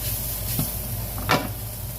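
Food sizzles steadily while being sautéed in a pan at home, a constant frying hiss broken by a couple of brief scraping stirs of the utensil.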